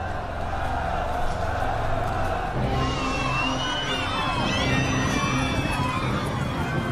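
A crowd cheers and shouts in a scene about a fallen barbarian general, with a steady roar of voices that swells into higher excited cries partway through.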